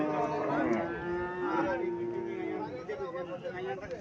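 A calf at a busy cattle market lows in a long, loud, nearby moo, with other calves and the murmur of people talking around it.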